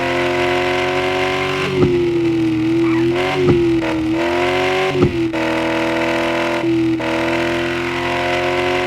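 Audi RS6 engine in the Car For Sale driving game, revving steadily with several sharp blips and dips in pitch as the throttle is stabbed, loud and close with no talk.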